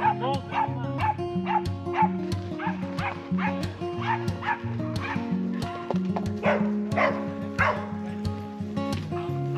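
Several dogs bark, yip and whimper in greeting at a countryside estancia ranch in the Sierras Chicas hills, repeated sharp barks close by over a steady low hum, with some brief voices mixed in.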